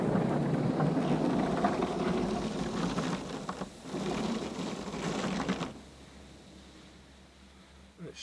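High-pressure pass inside a brand-new PDQ Laserwash 360plus touchless automatic car wash: a loud, steady spray roar and hiss drums against the car for about five seconds, then drops away to a quieter wet hum.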